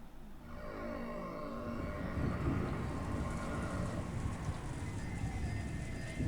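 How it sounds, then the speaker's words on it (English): Steady rain pours in the Umineko visual novel game during a typhoon on an island, a broad continuous wash of hiss with low rumbling underneath and a faint musical layer, no voices. "Ever since it started raining yesterday"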